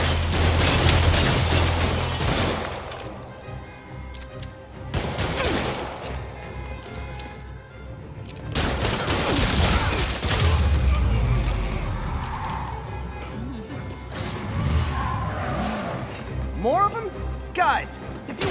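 Criminals fire guns in Spider-Man Remastered, with sharp broadband volleys in several bursts, the loudest at the start and around the middle, amid game music, impacts and voices talking throughout.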